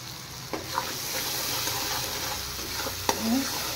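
Spice masala with green chilli paste, salt and turmeric frying in a pan for a hilsa-style dish, a steady close sizzle with a few sharp stirring clinks and scrapes, no talking.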